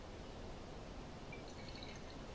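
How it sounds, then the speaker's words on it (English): Water poured steadily into a sodium chloride solution for a salt-solution preparation, a continuous close, broadband rushing pour with faint dripping, no voices. "and I'm going to add water."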